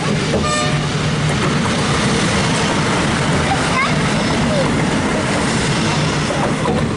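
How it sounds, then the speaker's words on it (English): A train rolls past close by near Betws-y-Coed, Wales, with a loud continuous rumble and rattling wheels, a horn toot early on, and people talking over it. "That train is so huge!"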